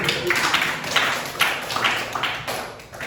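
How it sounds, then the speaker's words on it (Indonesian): Classroom of students clapping together for two classmates, a steady dense patter of hands close by, filling the whole moment with no talking. "Beri tepuk tangan dulu kepada dua-duanya dulu"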